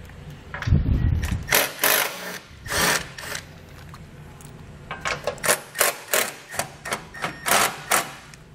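Bolts are being removed with a 13mm socket on a 2020 Buick Enclave during a base plate install, giving a string of short ratcheting and clanking bursts at close range, with heavier impacts near the start and rapid regular clicks later.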